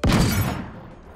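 Gunfire in the video game Realm Royale: a single sharp, booming shot with a heavy low thump that rings out and decays over about a second.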